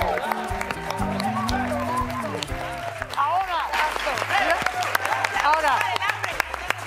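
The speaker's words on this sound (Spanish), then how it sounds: "Primero, primero es un aplauso a nuestros grandes intérpretes." Studio audience applause on a Mexican television game show, with clapping under loud music and voices, rhythmic claps mixing with a steady backing beat.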